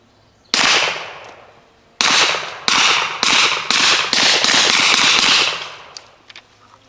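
Gunshots from a 10mm RIA 2011 pistol firing sweet-shooting ammo outdoors: one loud crack, then a quick string of six more sharp, ringing reports close by, with no voices.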